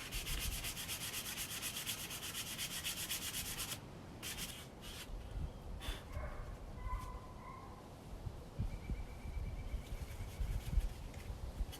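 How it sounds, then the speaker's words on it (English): Steady rasping strokes of 120-grit sandpaper rubbing on a carved wooden spoon, close and soft, continuing with brief pauses and a few faint birds in the background. "so we're done sanding our spoon."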